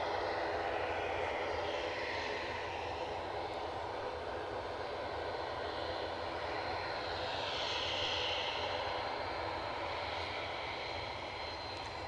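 An ATR turboprop turns off the runway at Edinburgh Airport, a steady droning engine roar heard from a distance, swelling slightly midway with no talk over it.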